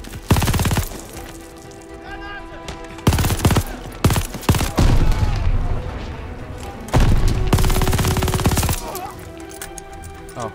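Heavy gunfire in the Call of Duty Vanguard battle of El Alamein, with loud bursts of automatic fire and booming shots that come in several dense waves and pause briefly between them.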